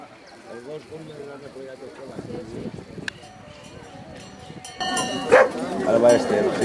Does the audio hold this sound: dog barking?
yes